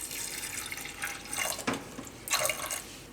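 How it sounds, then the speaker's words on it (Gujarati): Water poured into a bowl of washed, soaked chickpeas in a home kitchen, a few short splashing bursts of pouring, close and moderately loud with brief pauses between. "આમાં આપણે પાણી નાખી દેવું થોડુંક આ રીતે"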